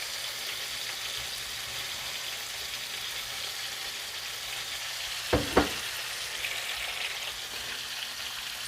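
Shrimp and sausages sizzle in hot oil in a pan with cabbage, a steady soft frying hiss throughout with two quick clinks or scrapes near the end.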